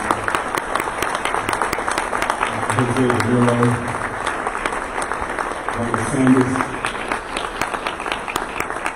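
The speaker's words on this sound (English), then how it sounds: "if we could give them a round of applause" Audience at a charity luncheon applauds honorees, sustained crowd clapping while a presenter's voice reads out names over it.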